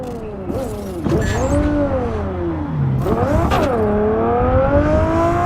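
A car engine revs hard in a Cyberpunk virtual-reality street race, with rising and falling whines as gears shift, close and loud throughout with no talking.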